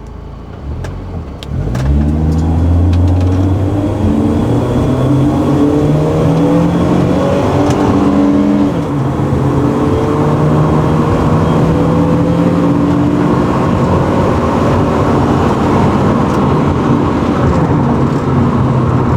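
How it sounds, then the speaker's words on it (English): A BMW E36 touring race car pulls away hard and accelerates through first, second and third gears, its loud engine climbing in rising sweeps with each manual shift, heard close from inside. "We're gonna put it in first gear, and Arne is going to shift manually to second and third"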